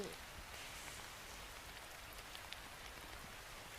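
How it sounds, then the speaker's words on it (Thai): Rain falls in a Roblox video game as a soft, steady, even hiss that is faint and constant throughout, with no breaks. "ฝนตกด้วยเรามาตอนฝนตกเลยนะทุกคน"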